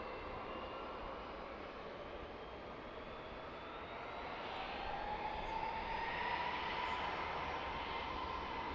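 A United Airlines jet airliner taking off from the runway at DCA roars steadily at a distance, its engine noise swelling slightly as it climbs, with no voices.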